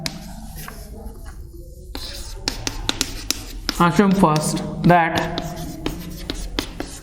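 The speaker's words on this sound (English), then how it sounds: "Now we write here" Quick taps and strokes of writing on a board during a math lecture, scattered and fairly crisp, mixed in with someone talking.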